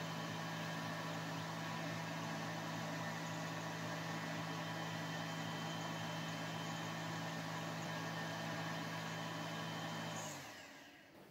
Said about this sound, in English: While the CNC runs